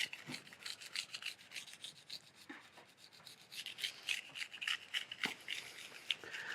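Kitchen knife drawn across a coarse grit sharpening stone with moderate pressure, a close, continuous gritty scraping in repeated back-and-forth strokes, fairly quiet and without talking.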